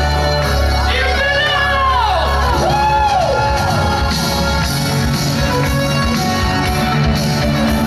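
Concert crowd at a club show in Odessa shouting, whooping and cheering loudly and continuously, with rising and falling voiced yells over a dense rumbling backdrop of crowd noise and music.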